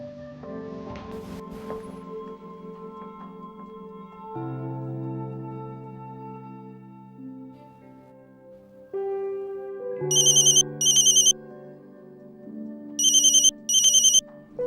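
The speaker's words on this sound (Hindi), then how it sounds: "ये किसका फोन आ गया?" Sustained tones shift through a melody, then bursts of a bright electronic phone ringtone repeat in pairs, loud and clear with no talking.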